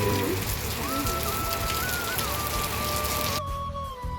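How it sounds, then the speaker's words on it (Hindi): Heavy rain pours down in a mountain village in Uttarakhand, a dense, loud, steady hiss of drops drumming on surfaces close by, continuous throughout without letting up. "कितनी मोटी मोटी बारिश आ रही है भाई।"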